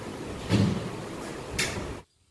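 Window rattling during a strong storm, with two sharp rattling bursts about a second apart over a steady rushing roar, close and fairly loud, then abrupt silence.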